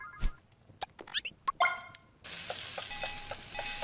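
Cooking in the game Phoenotopia Awakening, making a twice-cooked dish: a run of short menu blips and chimes, then a steady, bright sizzle with faint ticking tones that keeps going to the end.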